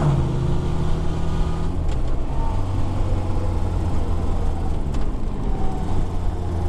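A 1987 Honda Goldwing 1200 motorcycle hums along steadily while being ridden, a continuous loud engine drone with wind rush and a gear change partway through, no voices.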